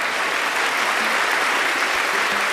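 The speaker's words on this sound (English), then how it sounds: "please join me in giving a warm round of applause for our brilliant, pioneering AI engineers, Regina Barzilai, Paolo Pigionian, and David Silver." A warm round of audience applause for AI engineers, dense and continuous clapping at steady volume from a large crowd, cutting off abruptly at the end.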